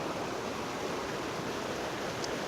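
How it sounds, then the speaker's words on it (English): Fast-flowing water rushes close by outdoors in a dense, steady roar, loud and unbroken, with no voices. "It is quite fast flowing water, as you can see."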